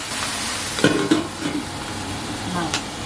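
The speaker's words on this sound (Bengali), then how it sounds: "মা ওদিকে ওল শাক ভাজছে" Yam greens fry in a pan with a soft, steady sizzle, broken by a few clinking stirs and scrapes of a utensil against the pan.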